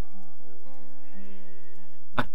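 A sheep in the video game A Kingdom for Keflings lets out a single drawn-out bleat, clear and close, followed by a short sharp click.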